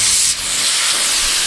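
Air hisses steadily out of a GR N80 Hilux's tyres as they are let down, a loud, close, continuous airy rush that briefly shifts in tone partway through.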